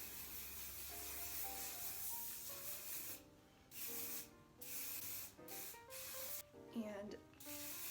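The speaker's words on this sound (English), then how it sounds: "I'm going to take some hairspray and just spray it down." Hairspray is sprayed onto brushed-out hair that was set with sponge rollers for a vintage style. A run of close, hissing bursts is broken by short pauses, over quiet background music.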